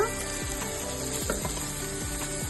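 Coriander, mint and fenugreek leaves fry for a mutton dum biryani, a steady close sizzle with repeated scraping stirs at a regular pace, no voices.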